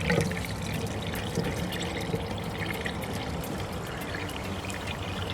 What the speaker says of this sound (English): let's go around and see the water actually coming in